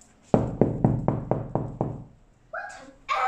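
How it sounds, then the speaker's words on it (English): Six even, hollow knocks sound close up on a wooden wardrobe in a drama class, followed by brief voices afterward. "Then do the knocking."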